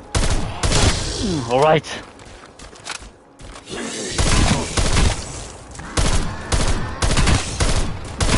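Rapid bursts of AUG assault rifle fire in Call of Duty Black Ops Cold War Zombies, coming in several loud clusters with someone talking briefly over the start.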